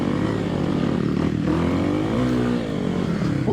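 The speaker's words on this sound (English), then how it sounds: "the KLX, you know, always just tractors right up this stuff" Kawasaki KLX 300 dirt bike engine laboring steadily as it climbs a steep trail near Floyd, Virginia, a loud continuous drone with pitch rising and falling as the throttle varies.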